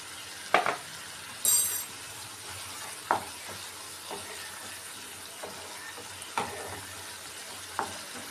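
Tomato paste bubbling in oil for a paneer capsicum gravy, a faint steady sizzle punctuated by occasional spoon scrapes and clinks against the pan, close and unaccompanied by talk.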